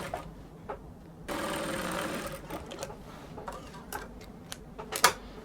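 A sewing machine stitches dress shoulders together with a half-inch seam, a steady whirring burst of about two seconds in the middle, surrounded by scattered handling clicks and rustles, with no speech.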